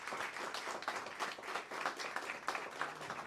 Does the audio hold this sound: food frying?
no